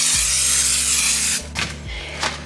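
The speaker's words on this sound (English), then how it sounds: "I'm gonna spray a little non-stick cooking spray" Non-stick cooking spray hisses from a can into a baking dish: one long, steady, close spray followed by two quick short bursts.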